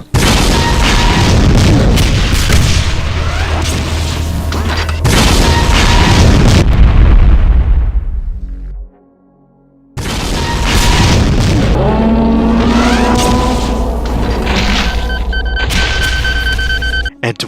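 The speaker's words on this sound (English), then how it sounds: "BFG 10K shots, Demon Tech BFG shots," BFG 10K and Demon Tech BFG shots exploding in a Doom mod, loud sustained booming blasts with ringing tones, fading into a short quiet pause before another dense barrage erupts.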